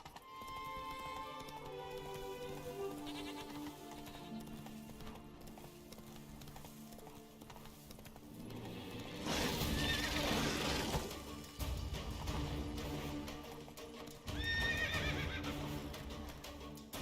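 Roach the horse in The Witcher 3 gallops with rhythmic hoofbeats, then lets out two loud neighs a few seconds apart, close and clear over soft background game music.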